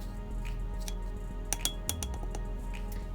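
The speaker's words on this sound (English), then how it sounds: "Now we're just going to give that a mix." Homemade deodorant ingredients mixed in a glass jar, giving a series of light clinks and taps of a utensil against glass, a few sharper knocks in the middle, quiet and close.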